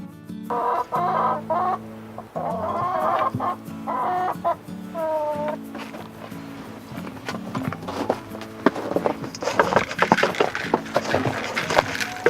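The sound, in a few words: chickens clucking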